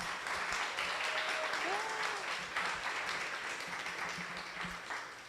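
Audience applause fills the room at a cryptocurrency meetup in San Francisco, a steady wash of clapping from many people that holds for several seconds and slowly thins toward the end.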